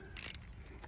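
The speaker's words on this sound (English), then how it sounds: "All it is a 8mm bolt, and we'll use a socket" A socket wrench ratchets an 8mm bolt while a clutch master cylinder reservoir is mounted on a 2015 Slingshot SL frame, giving a quick burst of close clicks.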